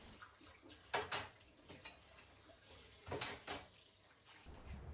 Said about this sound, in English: As soon as I finish eating, I usually wash the dishes right away.